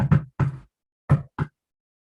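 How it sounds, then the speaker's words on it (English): Knocks on a palace door come in two pairs, each pair two quick dull raps separated by a brief silence, close and fairly loud. "there was a knock on the palace door"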